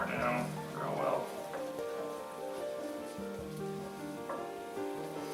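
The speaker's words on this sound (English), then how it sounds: "So I'm just kind of letting it come to a boil" Meatball marsala sauce coming to a boil in a pot, giving a steady soft bubbling and sizzling patter like light rain, heard under a voice talking throughout.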